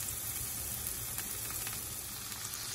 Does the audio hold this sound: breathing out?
no